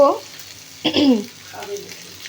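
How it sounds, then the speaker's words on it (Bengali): Onions fry in hot oil with a low, steady sizzle, while a person talks briefly over it. "দেখো, এই পেঁয়াজটা একটু ভাজা ভাজা হয়ে গেছে।"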